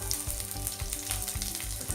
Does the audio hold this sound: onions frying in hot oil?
yes